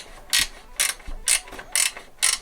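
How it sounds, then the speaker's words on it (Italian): A ratchet loosening the front exhaust manifold nut on a KTM 990 Adventure motorcycle, giving five evenly spaced bursts of rapid metallic clicking, close and fairly quiet, with no talk. "andiamo a svitare questo dado qui, che è quello che tiene lo scarico del collettore anteriore."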